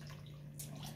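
Water trickles and drips softly into a milk mixture for bread buns in a home kitchen, faint and brief against a low steady hum.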